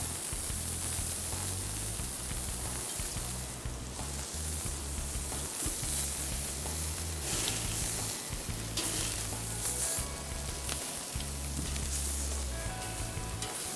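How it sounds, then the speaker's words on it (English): Bacon frying for burgers, a dense, loud, unbroken sizzle with constant crackle, heard close up over a low rumbling background that cuts in and out. "Bacon's almost done."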